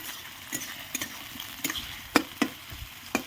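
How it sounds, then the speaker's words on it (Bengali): Onions fry in hot oil for a spicy rohu fish curry: a quiet, even sizzle broken by a few sharp taps and scrapes from stirring. "পেঁয়াজটা ভালোভাবে ভেজে নিতে হবে,"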